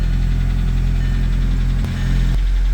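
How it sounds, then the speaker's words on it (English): Volkswagen Jetta engine idling with a light rattle that may come from a lifter: steady, close, low engine hum with a faint mechanical clatter on top and a brief change in pitch near the end. "Still have a little bit of a rattle that sounds like a, I don't know, lifter?"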